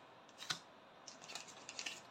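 Scissors snip through paper while cutting a scrapbook pocket piece, first with one sharp snip and then a quick run of small cuts, faint and close in a quiet room.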